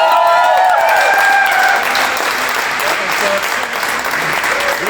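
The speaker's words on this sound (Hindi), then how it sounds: "तो मैं चाहता हूं सब जोरदार तालियां।" Loud, sustained audience applause from a large crowd filling the room, dense and steady throughout with a faint voice or two rising briefly above the clapping.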